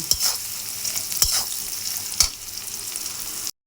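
Onion, green chili and garlic frying in a pan give a steady hiss of sizzling oil. Three sharp scrapes of a spatula stirring break the sizzle, close up and with no talk.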